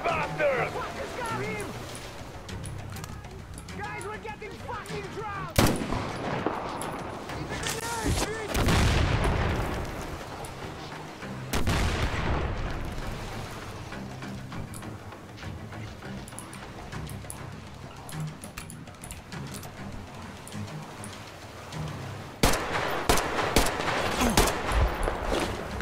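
Gunfire and booming blasts in the video game Metro Exodus during a fight, with heavy volleys and surges of noise that rise and fall. Shouted voices come and go over the shooting.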